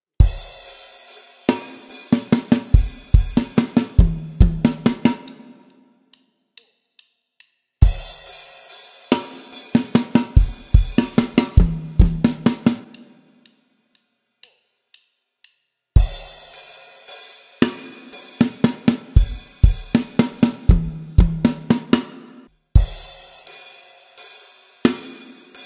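A drum kit plays the final bar of a song's chorus as a crisp fill of snare and tom hits with cymbal crashes, repeated three times with short silent gaps between.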